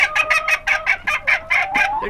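Old English game bantam chickens cluck in a steady run of about a dozen short, bright calls, close and fairly loud, with no talking.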